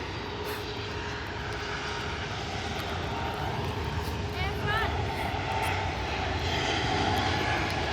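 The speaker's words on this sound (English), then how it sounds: "Air India departed." An Air India airliner departing, its jet engines giving a continuous broad roar heard from a distance, with voices talking faintly over it.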